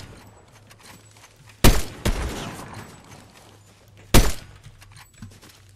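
Gunfire in Fortnite: a few sharp, loud shots spaced apart, two close together and a third a couple of seconds later, over quiet game ambience.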